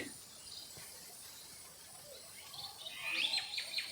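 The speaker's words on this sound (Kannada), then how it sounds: "ಬಗೆ ಬಗೆಯ ಹಕ್ಕಿಗಳು" Birds chirp and call in an outdoor setting, faint at first, then several brighter, high chirps grow clearer near the end.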